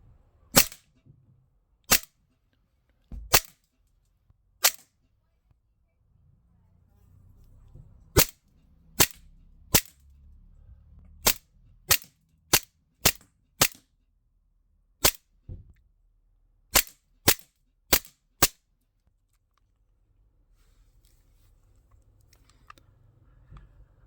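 An Umarex Beretta air pistol fires a string of sharp, snappy shots with blowback, some isolated and some in quick bursts, loud cracks over an otherwise quiet outdoor background.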